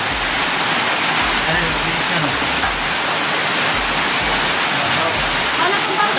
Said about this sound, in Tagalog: Ang lakas ng ulan dito sa labas